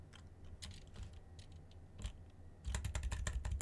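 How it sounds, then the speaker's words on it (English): A computer keyboard clatters with irregular key clicks during Minecraft play, quiet at first and then a faster, louder burst of typing toward the end, picked up closely by a sensitive microphone. "you can still hear my keyboard"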